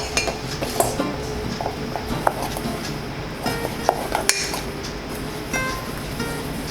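Spoon scraping and clinking against a bowl while homemade peanut butter cup filling is stirred together, a run of small close taps and scrapes over low kitchen room noise, with no talking.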